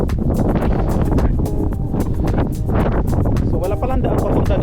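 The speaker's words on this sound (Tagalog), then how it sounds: "Lakas ng hangin." Strong wind near a lighthouse in Ireland buffets the microphone with a constant roaring rumble, gusting unevenly while a voice speaks faintly underneath.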